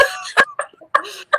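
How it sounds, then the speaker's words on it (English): Several sharp, harsh coughs in quick succession, close and fairly loud, with brief pauses between bursts. "I was having a coughing fit."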